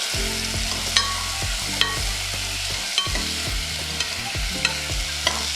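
Finely chopped onion frying in a pan for chickpea curry, a steady sizzle with a spatula scraping and tapping about once a second, close up under background music with no voices.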